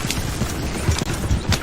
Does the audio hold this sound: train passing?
no